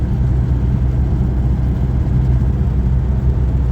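A GAZ-21 Volga 402 engine fitted with a UAZ manifold runs steadily at close range, a loud, continuous low rumble with no talk over it.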